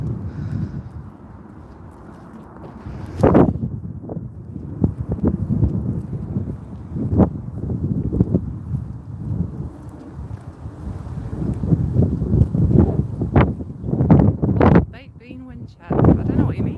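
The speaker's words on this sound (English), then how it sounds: "Oh, it's windy." Gusty wind buffets the microphone outdoors during a walk, a low rumbling roar that rises and falls throughout, with a person talking over it and brief louder bursts.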